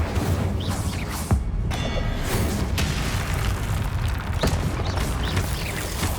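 Incendio fire spell cast in Hogwarts Legacy: a sharp whooshing burst followed by roaring, crackling fire and booming impacts under a steady, dense layer of game noise.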